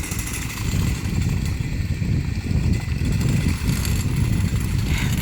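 A homemade trolling motor driven by a cordless drill and a car battery runs on the water near lily pads, a close, continuous low whirring drone that stays fairly steady, with no speech.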